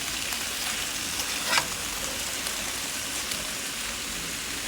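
Chicken pieces frying in a pan with bok choy nearby, giving a steady, dense sizzle with a brief clatter as pieces are turned over. No one talks over the crackle.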